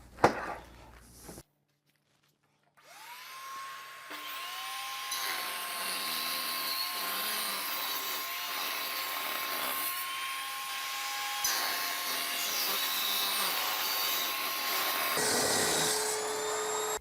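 A table saw rips through wooden boards for cutting boards, a steady high motor whine with cut noise running through most of the clip after a brief silence, with one motor restart partway.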